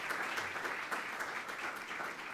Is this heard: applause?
yes